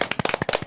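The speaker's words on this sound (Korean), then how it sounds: "우리 그럼 한번 박수를 좀 칠까요?" A quick burst of hand clapping, several sharp claps in rapid succession, close and loud, lasting under a second.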